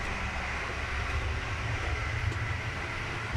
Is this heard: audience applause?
no